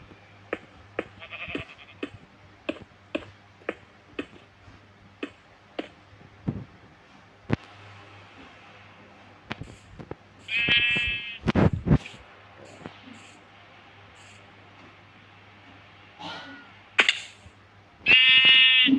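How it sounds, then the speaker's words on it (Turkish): Sheep bleating in Minecraft, several quavering bleats including two longer loud calls near the end, with regular soft clicking steps throughout. "O koyunu da tez almalıyım."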